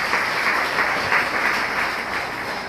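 A church congregation bursts into steady, sustained applause, a dense wash of many hands clapping together at full strength throughout.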